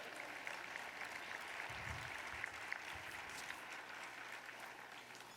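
Applause from a crowd at a law school commencement ceremony, a steady wash of clapping that holds at an even level throughout.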